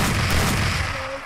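Gunfire in a video game: a short, dense blast of loud, rumbling shots fills the moment, then fades slightly.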